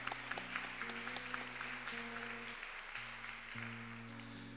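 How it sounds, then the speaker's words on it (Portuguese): A church congregation applauds after a scripture reading, a faint, steady patter of clapping heard at a distance under sustained organ-like musical tones. "Dê uma grande salva de palmas para essa palavra."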